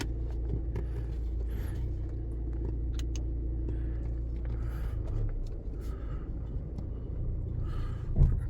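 A BMW X1 creeps forward slowly, its steady, low engine and road rumble heard from inside the car, continuous and even, with no one talking.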